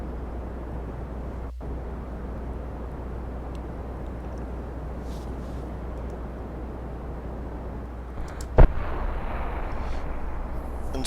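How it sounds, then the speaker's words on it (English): A small, risky explosion goes off as a single sharp pop after a long stretch of steady low rumble, followed by a brief burst of broadband noise that settles back into the background hum. "we have our risky little explosion here"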